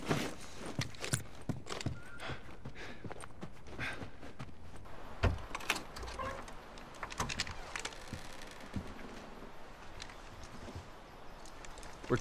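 Horse hooves in The Last of Us Remastered clip-clop at an uneven pace with occasional snorts and shuffles, fairly close, with scattered clicks and thumps around them.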